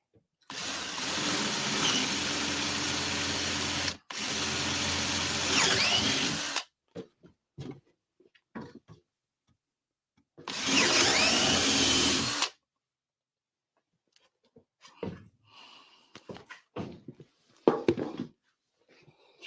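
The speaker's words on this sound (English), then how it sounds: "I'm just lining the drill up with the hole I've just drilled" A power drill whirs loudly in three bursts of a couple of seconds each, drilling holes in a model railway baseboard, separated by short gaps and quiet clicks and handling sounds.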